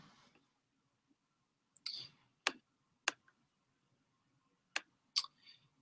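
Computer mouse clicks on a quiet desk, six crisp isolated clicks spaced irregularly across several seconds with near silence between them.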